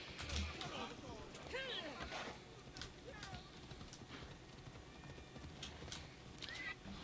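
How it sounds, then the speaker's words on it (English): A fiery horse in Assassin's Creed Odyssey clip-clops at a gallop under a steady game ambience, with a brief whinny early on and faint chirping calls overhead. "trample some people with my fiery horse."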